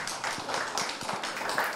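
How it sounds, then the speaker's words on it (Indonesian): Audience applause at the tvOne Inovasi Membangun Negeri 2024 award ceremony, a dense steady wash of many hands clapping at once, sustained and fairly even throughout, with no voices on top. "Baik, boleh diberikan tepuk tangan."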